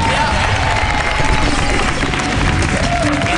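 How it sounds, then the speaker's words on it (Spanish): Dense, steady applause from a television studio audience fills the room for a science-team member named Javi, loud and continuous with a few cheers mixed in. "Fuerte aplauso para Javi, nuestro compañero del equipo de ciencia."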